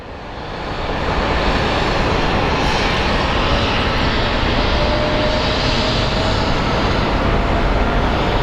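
Embraer airliner at Phoenix Sky Harbor airport: a broad, loud, steady engine roar that swells in within the first second and holds at close range, no voices.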